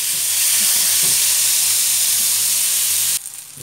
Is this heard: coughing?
no